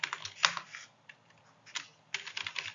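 Quick bursts of key taps on a computer keyboard while entering data into a spreadsheet, close and fairly quiet, with irregular clusters of clicks separated by short pauses.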